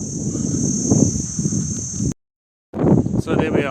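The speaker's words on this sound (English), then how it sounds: "Sorry about the wind is blowing." Wind gusts buffet the microphone at a mountain campsite, a rough low rumble with rustling, broken by a brief silent gap, while a voice talks over it.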